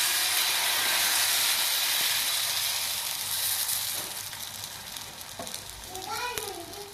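Dosa batter sizzling on a hot griddle for a masala dosa, a steady loud frying hiss that settles and fades slightly, with faint scraping and a brief voice near the end.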